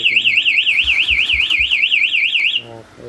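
A loud warbling electronic alarm on a Kawasaki KLX motorcycle wails in a rapid up-and-down pattern for a couple of seconds, then cuts off, leaving a few short beeps.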